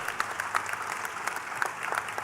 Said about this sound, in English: I think we must give a round of applause for him